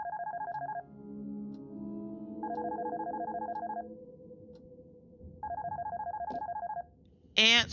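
A telephone rings in the video game Darkness Within, with three trilling electronic bursts of about a second each separated by pauses. A low hum runs underneath, and a sharp high chirp cuts in at the end.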